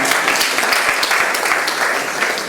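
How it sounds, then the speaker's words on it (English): An audience claps for the Governor at a ministerial briefing for the Ministry of Commerce and Industry, a steady dense patter of many hands that holds at an even level throughout without a break. "Can we give a round of applause to Mr. Governor?"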